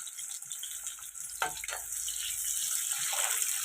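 Chopped onions and green chillies fry in a pan for a brinjal and peas curry, giving a steady, hissing sizzle with a few soft stirring knocks, no talking.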